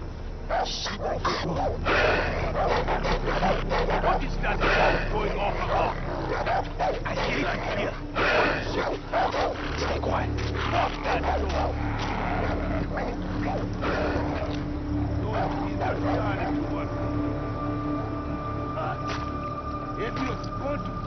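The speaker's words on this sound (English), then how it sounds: "Dogs, hold on." Dogs bark and yip in the video game Far Cry 3, repeated and fairly loud over a busy game soundscape, with someone talking over them throughout.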